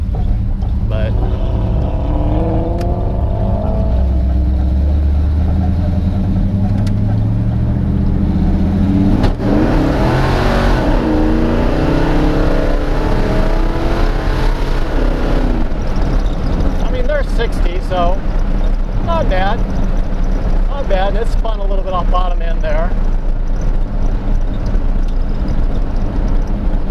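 High-horsepower car on very big tires accelerating hard, a loud continuous engine roar rising in pitch through several gear pulls, heard from inside with people talking over it.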